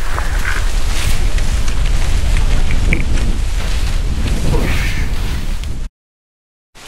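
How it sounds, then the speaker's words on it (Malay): Strong cold wind on Gunung Brinchang mountain roars loud and continuous against the microphone in heavy buffeting gusts, then cuts off abruptly near the end. "Angin kuat."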